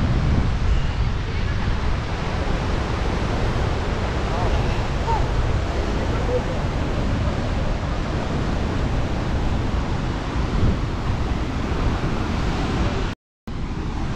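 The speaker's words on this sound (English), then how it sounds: "So this is the top view of waterfall." Huka Falls in New Zealand roars as a broad, steady rush of water with some wind buffeting, continuous and loud, ending in a brief cut.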